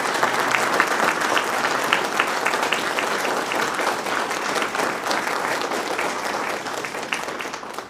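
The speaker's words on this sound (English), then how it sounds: "Please join me in a round of applause for our candidates this evening." Steady, full applause from a forum audience for county supervisor candidates at a League of Women Voters event, dense clapping holding evenly for about eight seconds without talk.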